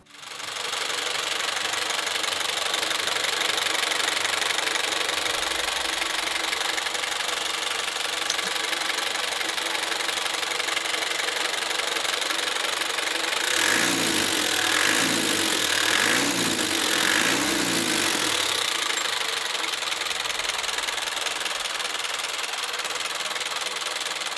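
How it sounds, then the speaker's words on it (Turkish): A 100-horsepower vehicle engine producing 216 Nm of torque runs steadily up close, a loud continuous hum with a rhythmic knocking, pulsing stretch near the middle, and no one speaking. "Dilerseniz motorumuzun bir sesini dinleyelim."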